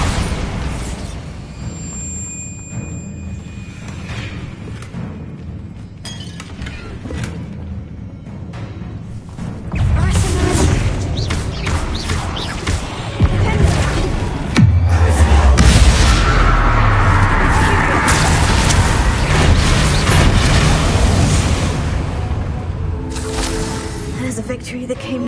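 Magical blasts from the Bombarda spell go off in a Hogwarts Legacy battle, loud booming bursts layered over a busy, rumbling fight with game music and spoken voices.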